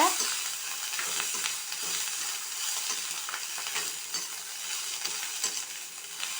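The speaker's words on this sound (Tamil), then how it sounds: "சுத்தம் பண்ண இந்த முருங்கைப்பூ 1 கப்பை இதோடு நம்ம சேர்த்துட்டோம். நல்லா வதக்கிடுங்க." A cup of cleaned moringa flowers sautés in a hot pan, giving an even close sizzle broken by soft scraping stirs throughout, with no voices.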